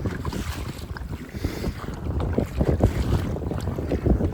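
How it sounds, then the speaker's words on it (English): Gusting wind buffets a small fishing boat out on Lake Texoma on a cold, wavy day, roaring over the microphone in uneven surges with water slapping underneath. "Apparently it's a little bit more windy than I thought it was gonna be today"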